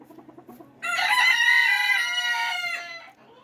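Backyard chickens, including a two-month-old young bird, give a loud drawn-out crowing call of about two seconds up close, after quieter clucks and murmuring.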